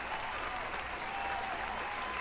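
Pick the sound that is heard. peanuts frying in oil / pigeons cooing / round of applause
round of applause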